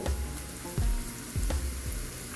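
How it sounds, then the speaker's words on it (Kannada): Carrots tipped into onions already frying in a pan for a North Karnataka-style pasta, with a steady close sizzle and a few soft stirring scrapes and knocks. "ಸ್ವಲ್ಪ ಉಳ್ಳಾಗಡ್ಡಿ ಹಸಿ ವಾಸ ಹೋಗೋ ಮಟ್ಟ ಹುರ್ಕೋಬೇಕು. ಈಗ ಕ್ಯಾರೆಟ್ ಹಾಕ್ಕೋಬೇಕು."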